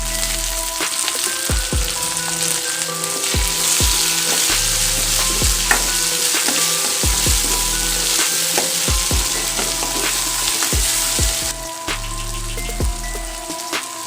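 A large tomato goes into frying onions in a pan, bringing a loud, steady sizzle with thumps and scrapes of stirring in a regular rhythm, heard near and without talk.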